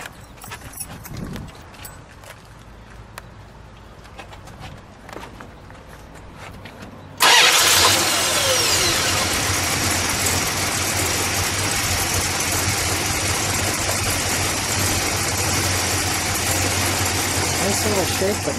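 A 1968 Plymouth Barracuda convertible with a 318 V8 cranks and catches abruptly, then settles into a steady, fairly quiet idle with a light rumble; the preceding stretch is quiet, with scattered faint knocks.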